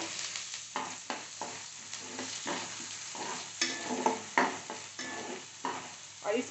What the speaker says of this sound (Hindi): अब मैं इसमें डाल दे रही हूँ प्याज।